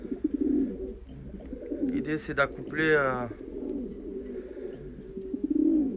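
Pigeons coo with low, throaty rolling calls in a loft that holds a paired male and female and the other birds, heard under someone speaking French.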